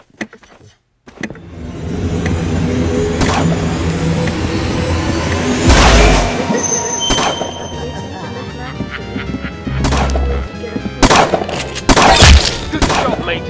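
Gunfire in the Roblox game Arsenal, bursts of shots and sharp bangs over busy game sound and a talking voice, loudest in clustered volleys near the end.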